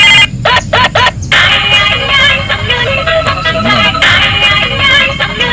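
A loud electronic phone ringtone playing a repeating melodic pattern over background noise, with short beeps at the start.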